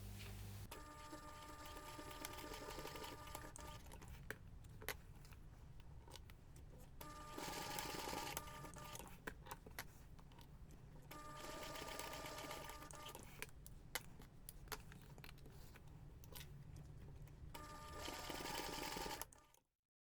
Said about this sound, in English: Then you can take this to the machine and we're going to baste everything together.